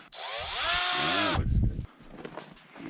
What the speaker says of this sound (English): Gonna put it in drill mode